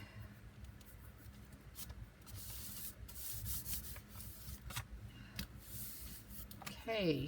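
Tape or paper rubbed down firmly by hand while assembling a Christmas-themed chest, a soft continuous scuffing and rubbing texture with brief louder swipes, close up, with a short spoken word near the start.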